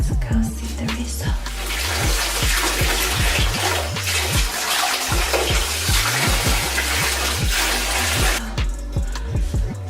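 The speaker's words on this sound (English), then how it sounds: "Now I'm just gonna go wash my hair with some cold water" Shower water running while someone rinses their hair under cold water, a steady broadband rush that is loud and close and runs for the full length, with a low rhythmic pumping or thumping pattern underneath.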